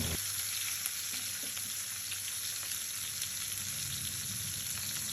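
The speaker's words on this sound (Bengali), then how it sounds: "এখন আমি মাছগুলো ভেজে নিচ্ছি" Fish fries in fish oil with a soft but steady, unbroken sizzle and faint crackle, with no voices over it.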